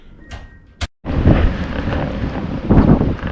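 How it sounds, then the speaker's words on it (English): After a brief click, strong wind roars and buffets close by outdoors, gusting loudly in uneven waves. "It's quite windy out today."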